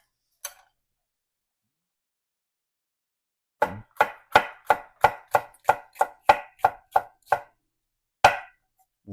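Knife working through a pepper on a cutting board to remove the ribs and seeds: one early tap, then a steady run of about a dozen crisp, evenly spaced cuts close up, with a final stroke after a short gap.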